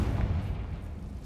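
A Confringo spell explosion in the Hogwarts Legacy video game: a short, loud, deep booming blast with a rumbling low end that carries through the whole moment, with no voices.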